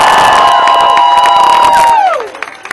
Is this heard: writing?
no